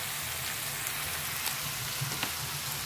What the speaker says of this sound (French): Et là, on fait cuire l'oignon.